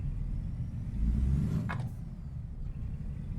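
An old truck's engine in American Truck Simulator runs with a steady, fairly quiet low rumble, alone, with a brief hiss partway through.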